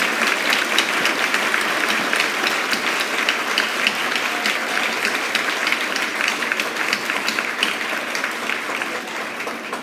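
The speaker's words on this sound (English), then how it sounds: "Let's give these little ones a big round of applause because they have been so good." A long round of applause from the crowd at a children's graduation ceremony, many hands clapping steadily and evenly for the full stretch without talk.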